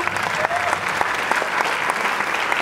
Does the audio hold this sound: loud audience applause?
yes